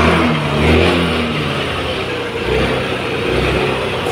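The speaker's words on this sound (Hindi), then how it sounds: "और अभी गाड़ी चालू करेंगे" A Mahindra Gusto scooter with a cut wire in its electrical system runs loudly up close, its engine idling and revving in uneven swells throughout, with no talk.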